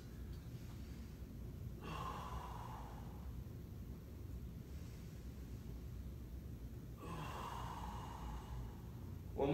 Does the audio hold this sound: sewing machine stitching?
no